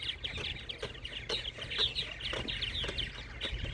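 A colony of purple martins chirps and gurgles repeatedly near a road repair crew. The bird calls are close and busy, layered over a low, steady motor hum.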